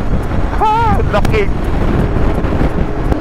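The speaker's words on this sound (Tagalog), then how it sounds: "Malakas hangin" Steady strong wind near windmills in the Philippines buffets the microphone with a low rumbling roar, while a voice speaks briefly near the start.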